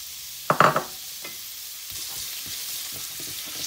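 Sliced onion rings go into a pan of frying celery for a Sri Lankan celery fry, giving a short, loud burst of sizzle that settles into soft, steady crackling.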